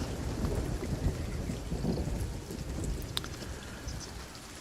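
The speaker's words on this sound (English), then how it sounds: "It's raining." Rain and thunder in a sailing video game: a steady rain hiss with low, rolling thunder rumbles and scattered droplet ticks, moderately quiet and continuous, with no voices.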